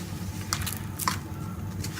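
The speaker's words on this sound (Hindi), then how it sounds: "दूध के साथ ही सारे आटे को गूंद लूँगी।" Wheat dough for keema paratha is kneaded by hand with milk, giving soft, faint squishing presses at an irregular pace over a low background hum.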